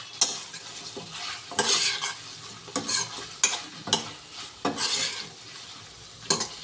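Pepper chicken is stirred and mixed in a pan, a spoon scraping and clinking against metal in repeated bursts over a faint frying sizzle, close and fairly loud with no talking.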